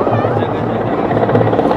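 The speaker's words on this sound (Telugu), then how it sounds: "ఇదిగోండి థర్డ్ హెలికాప్టర్ కూడా వచ్చేసింది ల్యాండ్ అవ్వడానికి." A helicopter arriving to land at a crowded event in Ayodhya, with continuous loud rotor and engine noise filling the clip while people talk nearby.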